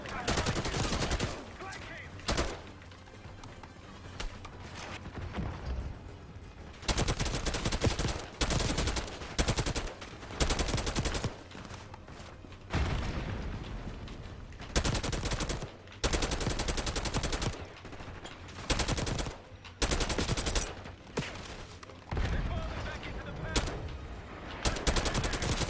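Friendly gunfire on the Saddam's Palace map of Call of Duty Black Ops 6 on PS5 rattles in loud, repeated automatic bursts separated by short pauses, close and dominant throughout.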